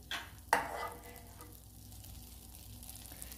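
Butter heating in a pan on the stove, with a sharp sizzle bursting up near the start and then a steady soft frying hiss close by, no talking.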